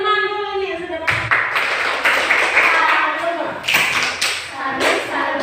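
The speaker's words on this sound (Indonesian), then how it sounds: "tepuk tangan buat teman dulu nih yang sudah baca" Classroom of students clapping for a classmate who has just read aloud, a burst of uneven, close hand claps mixed with taps and thumps, with a teacher's voice speaking at the start.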